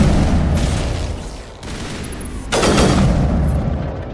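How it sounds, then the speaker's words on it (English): Burst-fire gunshots in the Mass Effect video game, loud and close, in two dense rattling bursts separated by a brief lull, with booming low-end weight and no talking over them. "Burst fire."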